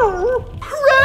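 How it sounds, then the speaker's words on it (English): A dog whimpering and yipping, close and loud, with a rising-and-falling whine followed by a higher, wavering cry within about a second. "There's Rad Dog! Rad Dog"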